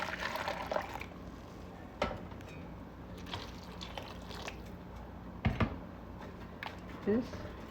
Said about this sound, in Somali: waxaan ku shubayaa biyo kulul